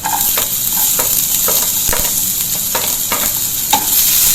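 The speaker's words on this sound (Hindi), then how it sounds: "अब हम डालेंगे प्याज" Onions frying with vegetables for spring roll filling, a loud continuous sizzle broken by repeated scraping strokes of a spatula stirring the pan, close up with no talking.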